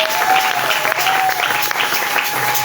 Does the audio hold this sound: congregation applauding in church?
yes